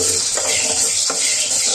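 Black-eyed peas fry in a pan with a loud, steady sizzle, and two brief scraping strokes of a stirring spoon cut through it close up.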